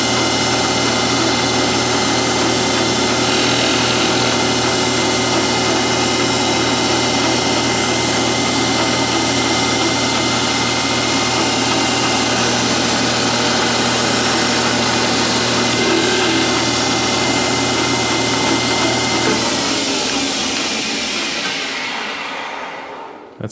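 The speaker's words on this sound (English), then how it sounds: "Let's take a cut on the outside, maybe 10 thousandths just to get under the skin" A metal lathe at 2400 RPM takes a 10 thou cut on the outside of a part for a toolpost grinder height adjuster, a loud steady motor whine and cutting hum held for about twenty seconds before spinning down.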